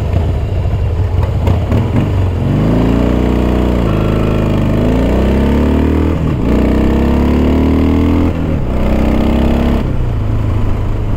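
Harley-Davidson Tilting Motor Works three-wheeled motorcycle accelerating from 0 to 60, its loud engine climbing through several gears with pitch rising and dropping at each shift, close and continuous under wind noise.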